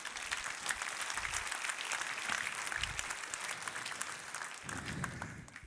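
A church congregation claps through a sermon, sustained, fairly close applause from many hands without any voice over it.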